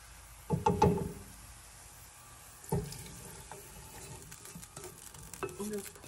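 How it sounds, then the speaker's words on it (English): A liquid mixture with onions is poured into a halloumi mixture in a home kitchen: two short splashy bursts of pouring and stirring, quiet and close, with soft scraping between them. "now I'm going to take this whole thing and pour it into the halloumi mixture that I have there"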